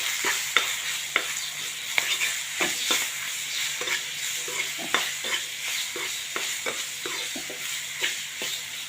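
A spoon stirs boiled sweet corn kernels with turmeric, red chilli, coriander-cumin powder and chaat masala in a pan, giving repeated close scraping knocks over a soft, steady sizzle.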